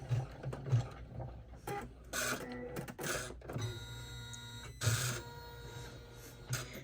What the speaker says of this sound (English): Just going to stitch our D-ring strap connector down.